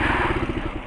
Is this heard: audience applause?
no